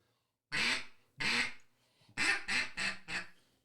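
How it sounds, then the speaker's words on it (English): A duck call blown as a greeting call: two drawn-out quacks, a short pause, then four quicker quacks in a descending cadence, close and clear against silence. "I'll hit them with a greeting call"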